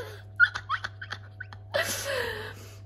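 A dog under attack gives a quick series of short, sharp yips and whimpers, close by, followed by a longer, breathy whining cry.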